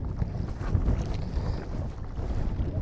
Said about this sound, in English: is that the wind starting to get up?